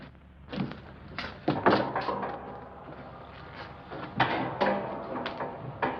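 A door is opened onto a folding bed in an old room, giving a series of wooden knocks, creaks and thuds with rattling clatter, moderately loud and close.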